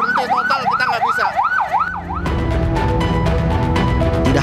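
A wailing ambulance siren rises and falls rapidly in total traffic gridlock, loud and close, then gives way to a harsher, rumbling horn-like blare over traffic noise.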